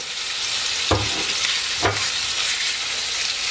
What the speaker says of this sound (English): So you hear the little sizzle there? That means the pot is hot and ready to go.